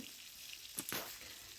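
Chopped onion meets hot oil tempered with whole spices and gives a low, steady sizzle with a brief stirring scrape in the middle, for a prawn malai curry.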